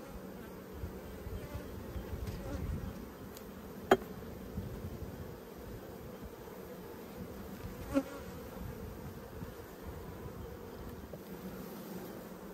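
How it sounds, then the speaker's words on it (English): Honey bees densely covering an Australian hive drone in a continuous close buzz, steady throughout, with a couple of faint clicks and no talking. "just a huge coverage of bees"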